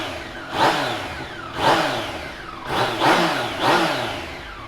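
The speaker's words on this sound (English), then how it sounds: "let's give this 3-cylinder beast a start." A 2018 Yamaha MT-09 Tracer GT three-cylinder motorcycle is cranked over and over, its starter and engine giving four close, loud bursts in a steady rhythm, each rising and dying away, with no talking.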